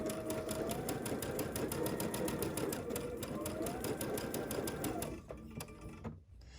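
Quilt pieces for a butterfly quilt pass through a sewing machine in one steady, loud, close run of rapid stitching that slows and stops near the end.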